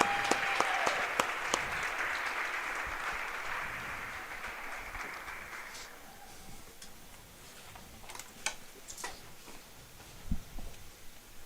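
Crowd applause for the senior players at a high school girls basketball game in a gym, loud and dense at first, then fading after several seconds into scattered claps and arena murmur.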